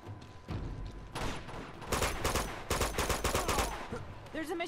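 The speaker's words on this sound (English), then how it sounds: "There's a machine gun over there." Rapid machine gun bursts ring out in an Uncharted 2 gunfight, loud and close, repeated volleys crackling over game ambience with a short pause between them.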